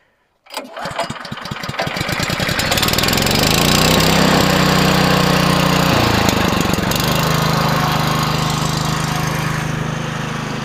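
A SuperSplit HD log splitter's small gas engine fires after a quick burst of pulls, then revs up and settles into a loud, steady running drone close by, with no talk.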